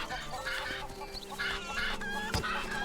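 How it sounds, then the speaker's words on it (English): Cuckoos, the chickens of Link's Awakening, clucking in a dense agitated flock, overlapping squawks and clucks in quick bursts, loud and close with no talk. "we're just gonna get essentially bombarded by chickens, and they will damage us."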